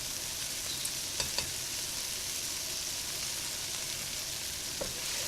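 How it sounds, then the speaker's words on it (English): Tomato puree is stirred into a sizzling prawn and potato mixture in a pot, giving a constant soft frying hiss with a few light scrapes of the spoon. "And mix it well with the rest of the ingredients in the pot."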